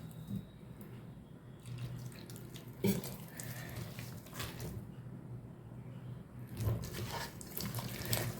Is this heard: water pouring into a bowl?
yes